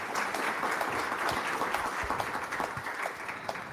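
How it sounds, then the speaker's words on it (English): A live audience applauds the curatorial team at a museum lunchtime history talk, steady dense clapping holding evenly throughout at moderate level, with no voices over it. "Let's give our curatorial team a round of applause."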